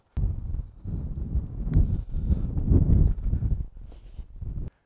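Wind gusts across an open golf course on a par five, a steady low rumble of air buffeting the microphone throughout, rising and falling in strength.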